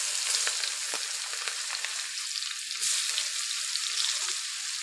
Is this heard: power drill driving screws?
no